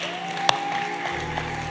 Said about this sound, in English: if you want to get saved, here's a good place to clap